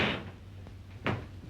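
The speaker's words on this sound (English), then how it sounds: "Close that door." A door pulled shut in an old 1936 film scene, a soft creak followed by a single dull knock of the closing, heard near and alone.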